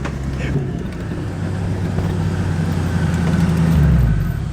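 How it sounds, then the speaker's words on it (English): A 2001 Ford Mustang GT race car with a Coyote V8 drives at speed, its low steady engine drone filling the cabin, rising slightly in pitch near the end, with no talk over it. "Now that is a real race car."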